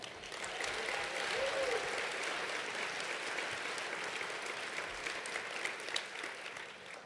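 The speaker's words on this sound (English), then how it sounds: "And one more round of applause for Dr. Glaude." Steady applause from a crowd, sustained clapping that holds at an even level for several seconds before easing slightly.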